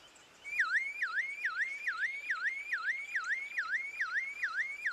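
A lyrebird mimics a car alarm, a loud repeating rising-and-falling electronic warble cycling steadily and evenly, alone without voices.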